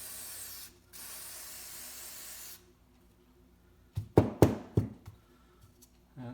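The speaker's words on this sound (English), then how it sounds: "Spray it from all directions to make sure we get it all clean." Aerosol cleaner hisses in two long, steady bursts onto the MAF sensor of a 2005 Hyundai Santa Fe, close and loud, followed by a few sharp knocks and taps as the part is handled.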